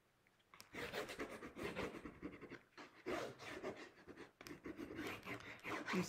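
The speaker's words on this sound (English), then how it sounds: "Do some scratching." A tool scratches into a watercolour painting on paper, making close, faint rasping strokes in repeated bursts with short pauses between them.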